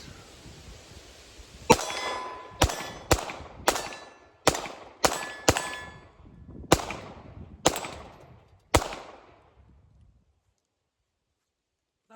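A Ruger LCP Max .380 pocket pistol fires bare lead hand loads at steel targets outdoors. About ten sharp, loud shots come in an uneven rhythm, each with a ringing metallic clang, followed by quiet.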